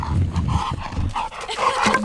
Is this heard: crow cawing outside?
no